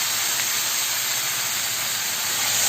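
Water poured into a hot pan of simple potato curry, giving a loud, close, continuous steamy hiss that holds steady throughout.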